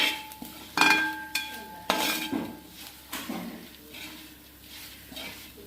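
A spoon scrapes and clinks around a pan as coriander and turmeric powders are stirred into a Kerala-style duck curry, giving a series of sharp metallic knocks over a soft background.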